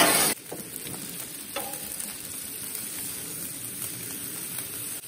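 Steak and shrimp sizzling on a hot Blackstone griddle, a steady close frying hiss and crackle throughout, with a sharp clatter at the start and another light knock partway through.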